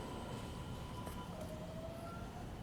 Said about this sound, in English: Behold, a train.